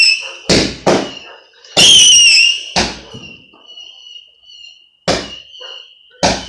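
Multi-shot cake fireworks on bonfire night fire a rapid run of loud, close bursts, with whistling crackle between them and sharp pops recurring over several seconds.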